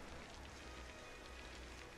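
Steady rain patters on surfaces in the video game Crashlander, a soft, even hiss of drops that stays constant and faint with no voices.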